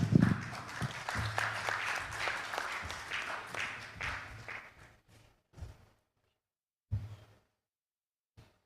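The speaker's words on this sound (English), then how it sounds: "A round of applause for them, please." Applause at an African actuarial congress session, crowd clapping that stays strong for a few seconds before thinning out to a handful of isolated, scattered claps.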